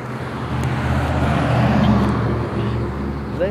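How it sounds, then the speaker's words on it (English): A truck rolls past on a road, its engine a steady, loud rumble that swells and holds for several seconds amid surrounding traffic noise. "It's a scary truck."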